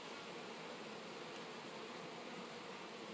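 Honey bees washboarding on the front of a beehive make a soft, steady buzzing hum, faint and continuous without pause, with no voices.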